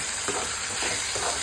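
Green chillies and tomatoes sizzle in a hot pan with oil, giving a steady close frying crackle with soft stirring scrapes over it, brief and without any voice.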